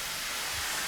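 Steam from industrial machinery in the rain-soaked game world of Rain World hisses in a continuous, bright, airy rush, steady and fairly loud for under a second with no talk.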